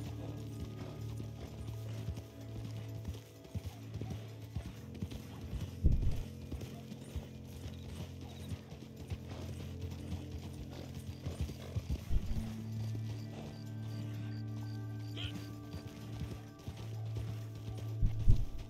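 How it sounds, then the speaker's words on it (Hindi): Horse hooves clip-clopping at a steady galloping rhythm in the Red Dead Redemption 2 Online video game, moderately loud and continuous throughout, with occasional heavier thumps, a brief whinny and faint game mechanism noise. "ये देखो गयो गयो राणा गयो, बहुत तेज जा रहा है ये, बहुत आहिस्ता घोड़े वाली हालत है।"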